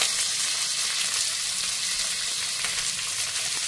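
Ingredients other than ginger and coriander frying in a pan, a steady continuous sizzle holding at an even level throughout with no talking.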